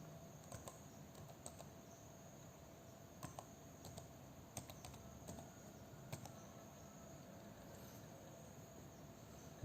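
Typing on a computer keyboard while entering data into SPSS: sparse, faint key clicks in small irregular clusters over a steady quiet background hum, with no talking.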